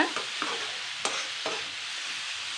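Brinjal pieces frying in oil in a pan, a constant close sizzle with several short scrapes and knocks as they are stirred.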